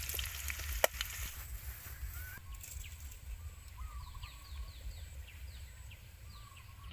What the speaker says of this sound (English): Add our red garlic. And then we continue to fry it until it already cooked.